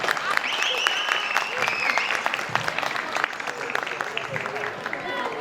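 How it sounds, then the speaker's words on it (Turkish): Audience applause fills a traditional music concert at the Eyvan concerts in Diyarbakır, a dense steady wash of clapping lasting throughout, loud and close with crowd noise mixed in. "Birbirinden değerli ses ve saz sanatçı arkadaşlarımıza güzel bir alkış rica ediyorum."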